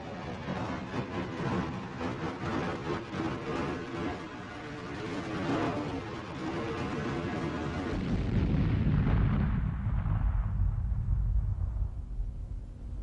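Archival A-4B rocket launch, a failed first test: a loud, continuous roaring rumble with crackling bursts that builds and thickens toward the end, the high hiss fading as the low thunder deepens.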